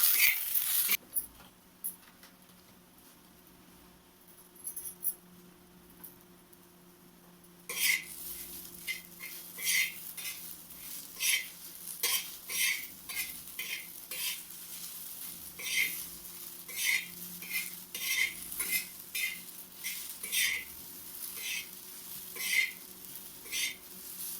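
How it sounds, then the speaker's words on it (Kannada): Sliced okra frying in oil in a pan, first a low quiet hiss, then a steady sizzle broken by repeated scraping stirs and light clinks of a utensil against the pan, close by. "ಈಗ ತೆವ್ಯಾಗ ಬೆಂಡೆಕಾಯಿ ಹಾಕಿನ್ರಿ ಫ್ರೆಂಡ್ಸ್. ಈಗ ಒಂದು ಸ್ವಲ್ಪ ಎಣ್ಣೆ ಹಾಕಿ ಚಂದ ಹುರನ್ರಿ"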